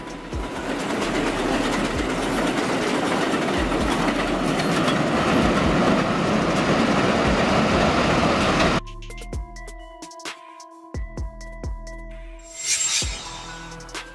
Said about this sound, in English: Subway train.